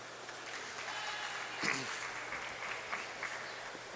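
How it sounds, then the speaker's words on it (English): Spectators at a four-wall handball national championship match give a scattered, moderate round of applause in a large indoor court, with a few sharper claps and cheers standing out. "You hear that round of applause?"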